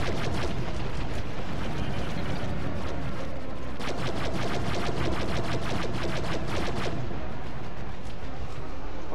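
Gunfire and explosions as a target is shot and destroyed in Star Wars Battlefront 2 on the Mygeeto map, a dense, continuous barrage of blasts and rapid shots with a burst of quick repeated fire in the middle.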